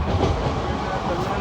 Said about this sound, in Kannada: So family ಬಿಟ್ಟೈತ್ರಿ train.